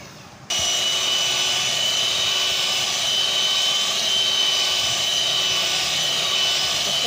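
Electric hand beater whipping cream for homemade ice cream, switching on abruptly after a brief quiet moment and then whirring steadily and loudly with a constant high motor whine.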